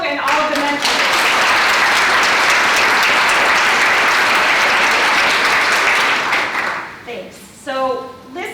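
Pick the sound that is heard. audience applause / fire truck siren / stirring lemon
audience applause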